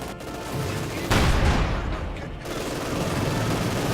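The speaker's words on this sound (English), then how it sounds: "heavy mortar continues to bombard away here" Heavy mortar bombardment in the strategy game Company of Heroes 2: a loud, rumbling blast hits about a second in, over a continuous roar of battle noise.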